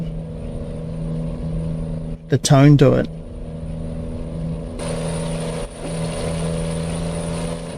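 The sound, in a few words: truck engine M11 in American Truck Simulator video game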